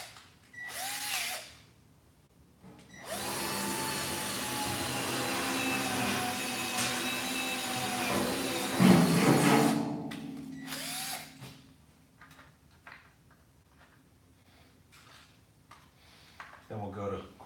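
Power drill stepping up through bit sizes to 3/16 inch while enlarging a hole for a bench vise on a Ridgid job site box; short bursts, then a loud sustained whine, and the motor pitch drops as the bit bites. A voice speaks between runs.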